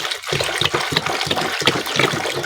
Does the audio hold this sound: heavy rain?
no